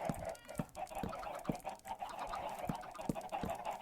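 Chickens cluck in a coop in the Minecraft video game, short repeated clucks at an irregular rhythm over a steady game background, no talking.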